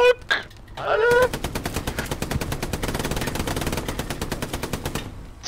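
Rapid automatic gunfire in a video game, sustained bursts running almost continuously after a short opening with game sounds, loud and close.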